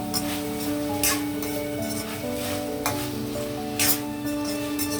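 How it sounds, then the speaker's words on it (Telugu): Green beans stir-frying in a pan as the first step of chicken fried rice: steady close sizzling with repeated stirring strokes and occasional light clinks of utensil on pan, no voices. "ఇదిగో ఫస్ట్ అయితే నేను బీన్స్ వేస్తున్నాను."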